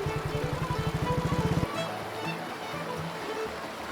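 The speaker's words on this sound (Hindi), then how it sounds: "बहती हुई नदी की आवाज़ सबसे खूबसूरत वेलकम थी" A river flows beside a riverside stay in Chitkul, Himachal Pradesh, giving a loud, continuous broadband rush of water. A rapid rhythmic low thumping runs under it for the first second and a half, then stops.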